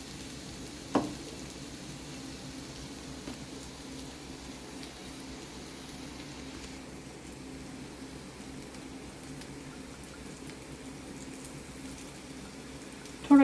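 Oil sizzling steadily in a pan while Bombil Bhujane, a Mumbai Saraswat Bombay duck dish, fries: a soft, continuous low crackle, with one brief clink near the start and another knock at the very end.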